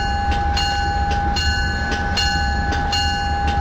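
An Acela Express train pulls slowly out of Union Station in Washington, DC, with a loud, steady rumble, a constant electric whine and rhythmic clicks of wheels over rail joints.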